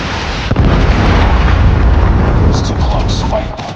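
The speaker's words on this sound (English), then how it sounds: "Friendly Predator missile inbound." A Predator missile strike in Call of Duty Mobile lands with a loud, sudden blast followed by a rumbling, crackling roar that sustains for a few seconds before fading slightly, up close in the game mix.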